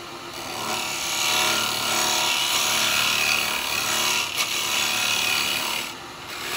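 A woodturning tool cuts into wet eucalyptus spinning on a lathe, a steady close rasping shave that holds evenly for several seconds, dipping briefly near the end.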